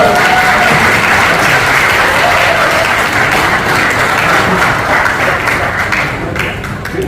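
Loud, dense applause fills a hall at a retirement ceremony for horse racing trainers, sustained and steady throughout and easing slightly toward the end.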